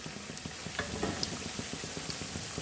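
Cumin and coriander seeds frying in hot oil for gongura pickle, a steady dense crackle and sizzle with light stirring scrapes, close and continuous.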